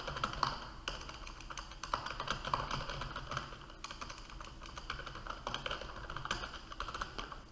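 Code is typed on a computer keyboard in a steady, fast stream of close, faint key clacks with no pauses and no voices.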